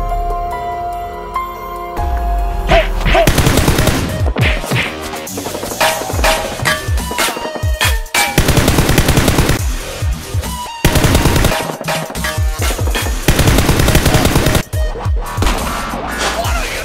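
A Combine gunship fires in the Half-Life 2 video game, bursts of rapid heavy gunfire arriving in repeated loud volleys over a dense, busy game soundscape with no clear talk.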